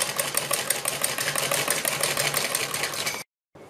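Sewing machine running a seam across a net neck design with buckram, a steady close mechanical whirr for about three seconds, then a sudden stop and a brief restart.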